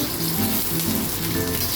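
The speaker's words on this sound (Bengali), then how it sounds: "এই পর্যায়ে আমি এর মধ্যে দিয়ে দেব ক্যাপসিকাম কুচিটা।" Chopped capsicum sizzles steadily in a hot pan, a dense continuous frying hiss heard close up with no voices.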